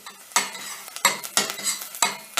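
Red pepper paste fries in a pan with bulgur pilaf vegetables as a spoon stirs, giving a few sharp scraping strokes over a low sizzle, close and clear.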